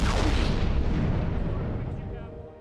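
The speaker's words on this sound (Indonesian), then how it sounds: "para kru mengetes meriam yang sudah lama tak digunakan" An old, long-unused cannon being test-fired on a ship's deck, a single loud booming blast that rolls and decays over a couple of seconds.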